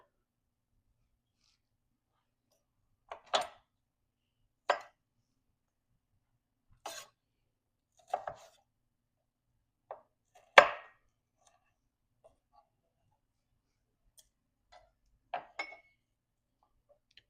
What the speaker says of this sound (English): We're going to slice this.